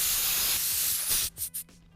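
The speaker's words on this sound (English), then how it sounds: "I'm just gonna hold down on it, get a little going, spray off all the debris." A loud continuous hiss of compressed air from a compressor blowing debris off a Nissan 240SX valve cover, close up, then two short bursts as the trigger is released and pressed again.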